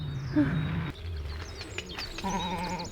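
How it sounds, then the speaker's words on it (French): Loose sheep out of their pen on a permaculture smallholding, bleating a few times among other farm and bird sounds, with a quiet voice nearby. "Tiens, il y a les moutons qui se sont échappés, t'as vu?"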